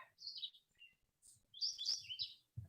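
Several birds chirp and tweet around a house in short, scattered bursts, some fairly close and bright, with quiet gaps between the calls and no talking.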